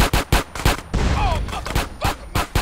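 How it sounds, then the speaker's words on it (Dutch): Gang gunfire in the video game GTA San Andreas sounds as rapid bursts of shots, several sharp pops in irregular clusters with game effects in between. "iedereen is dus elkaar dood aan het knallen"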